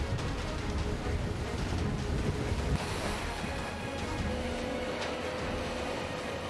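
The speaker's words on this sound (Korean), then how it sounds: "밤이 되자 그 물결은 파도로 바뀌었습니다." Ocean waves wash steadily around a fishing boat at sea at night under a gale warning, a constant loud broadband roar of surf and wind with no break across the stretch.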